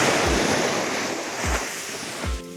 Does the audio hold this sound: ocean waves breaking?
yes